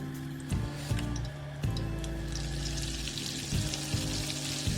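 Butter dropped into hot oil in a pan for butter garlic potatoes, a close steady frying sizzle with a few soft knocks and a low hum underneath.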